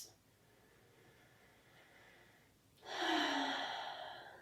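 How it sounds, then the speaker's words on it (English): A slow, deep breath during a relaxed yoga session: a quiet inhale is followed after a pause by a louder, breathy exhale close to the ear. "Let's start by taking a deep breath in and letting it out."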